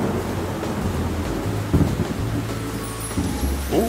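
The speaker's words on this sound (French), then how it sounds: "C'est une tempête!" A cartoon thunderstorm with rain and wind, a steady dense roar with low rumbling swells, loud and continuous.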